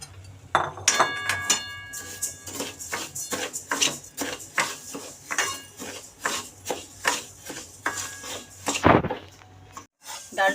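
Moong dal dry-roasting in a pan, with repeated light clinks and scrapes of a spoon stirring the lentils, an irregular steady rhythm of close, moderately loud strokes over a soft low hum.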